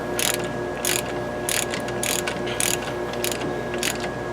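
A hand ratchet clicks in short, rapid bursts while tightening brake caliper bolts in a star pattern, with about seven evenly spaced runs of sharp pawl clicks, loud and close.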